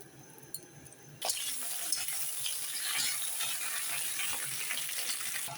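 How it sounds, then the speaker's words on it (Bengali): Flat beans dropped into hot oil in a wok start a sudden loud, steady sizzle that crackles and spits continuously, close by, after a quieter moment of faint kitchen background. "সিমটা ভাজবো।"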